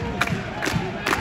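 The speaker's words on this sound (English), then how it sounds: "Oh, this crowd is begging for a goal." Hockey crowd at a Finnish Liiga finals game between Pelicans and Tappara, a loud sustained roar of chanting and cheering with rhythmic rising bursts, filling the arena.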